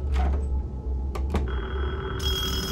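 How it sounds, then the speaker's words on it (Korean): A telephone rings in the principal's office in the Taiwanese horror game Detention, an electronic ring starting late in a quiet, eerie scene after a few sharp clicks and knocks. "어디서 전화벨을 울리는 거야?"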